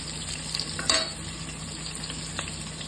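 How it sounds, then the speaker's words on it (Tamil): Onions sauté in a pan for Madurai-style mutton kulambu: a steady, close sizzle runs throughout, with a brief louder stir just before the one-second mark. "வெங்காயம் நல்லா வதங்கணும்."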